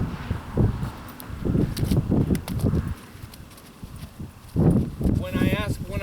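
A Holsteiner horse's hooves stepping on the ground during groundwork: several dull, close thuds in irregular clusters, with people talking over them.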